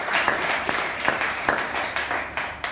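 Congregation applauding the Lord at a church gathering, a sustained wash of many hands clapping with some louder individual claps popping out, steady and fairly close.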